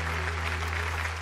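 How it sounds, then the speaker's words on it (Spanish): Applause from the audience at the 2015 Ondas awards gala, a steady dense wash of clapping with a low steady hum beneath it. "gracias, un aplauso"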